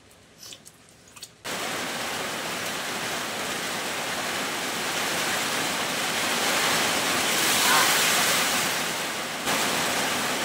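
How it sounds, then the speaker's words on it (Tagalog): Heavy rain pouring down as a loud, dense, steady roar that starts abruptly and continues for about nine seconds, with brief handling noises just before it begins. "Lakas ng ulan, idol."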